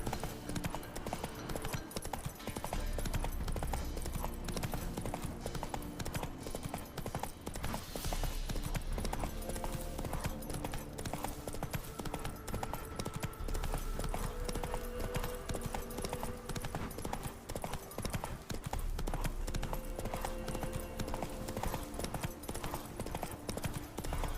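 Horse hooves galloping in the video game The Witcher 3, a steady rapid clip-clop rhythm that runs throughout, moderately loud over a dense game soundscape with a brief snort or whinny.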